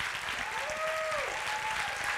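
Audience applause fills a gala evening for the Woman in IT 2024 awards, a steady wash of clapping across the whole moment with a faint tonal sweep running through it.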